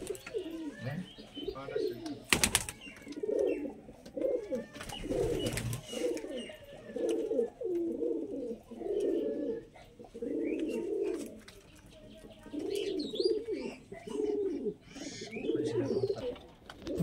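Madras pigeons coo repeatedly, their low throaty calls rising and falling in a regular rhythm nearby, with a few sharp knocks in between.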